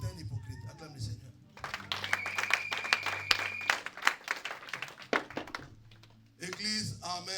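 A church congregation breaks into scattered clapping and applause during a French-language sermon, with a voice speaking over it and a sustained tone in the background.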